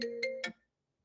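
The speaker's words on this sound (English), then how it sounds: "oops, I got a phone call." A mobile phone ringtone sounds for an incoming call: three short melodic tonal bursts in quick succession, clear and close, then silence.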